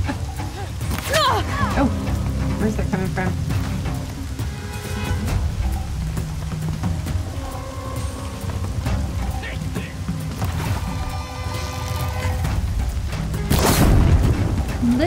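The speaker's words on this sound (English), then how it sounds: "My microphone's picking up the thunder." Storm ambience in the video game Horizon Zero Dawn: steady rain hiss runs throughout, with low rumbling thunder rolling in and a louder boom near the end, mixed with game effects and speech.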